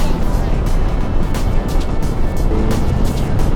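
KTM Adventure motorcycle cruising on a highway, with a loud, steady drone of engine and wind rush close to the rider and faint talking mixed in.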